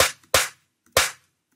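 Two sharp snare hits, dry and punchy with a bright noisy crack, spaced a little over half a second apart, alone with no talking.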